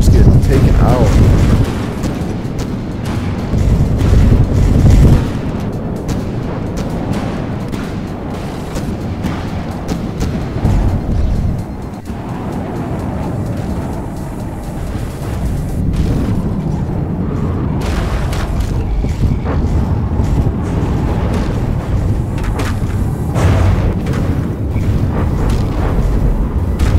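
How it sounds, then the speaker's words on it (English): A missile barrage being shot down in a robot combat video game, bringing a steady run of deep booms and rumbling explosions that are loud and near, sometimes heavier and sometimes thinner, with someone commenting over part of it. "Another missile barrage coming in. And yeah, those missiles are just getting taken out."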